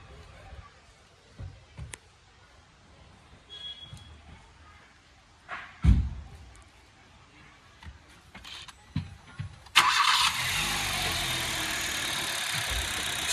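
A 2011 Hyundai Verna's engine sits through faint scattered knocks and thumps, then roars into a loud, steady run that holds to the end.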